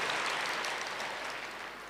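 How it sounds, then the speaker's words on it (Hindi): An audience claps together at a gathering, a dense, even wash of hands that is fairly loud at first and gradually fades over two seconds, with no voices over it. "ताली भी उमंग उत्साह से बजानी चाहिए"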